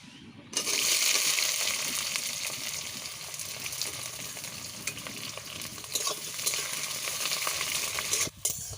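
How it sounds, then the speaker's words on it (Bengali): Chopped onions sizzle steadily in a pan over a new stove's strong flame, added after cumin for a curry of liver, neck and chicken feet; a loud, dense frying hiss with occasional stirring scrapes runs without pause, then cuts off briefly near the end. "পেঁয়াজ আমার ভাজা হয়ে গেছে"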